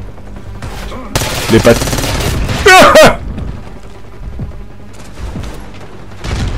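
Call of Duty Black Ops 6 campaign on Xbox Series S, with loud bursts of close automatic gunfire and a heavy boom, interspersed with a player speaking briefly.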